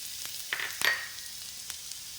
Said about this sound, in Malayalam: അതേ ചീനച്ചട്ടിയിലേക്ക് ഞാൻ തേങ്ങയും കൂടി ഇട്ട് കൊടുക്കുന്നു